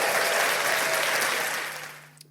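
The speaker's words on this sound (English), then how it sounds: "Round of applause for everybody at the UFC" A burst of crowd applause, dense clapping that holds strong and then tapers off quickly near the end.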